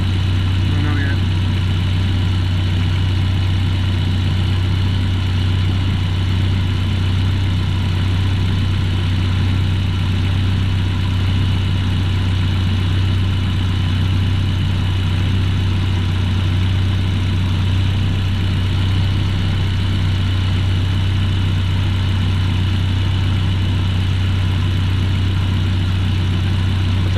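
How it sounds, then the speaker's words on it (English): A GLI car engine idles with a steady, even hum and a strong low drone that never changes pace, loud and close, with people talking faintly over it. "At least it's idling well now."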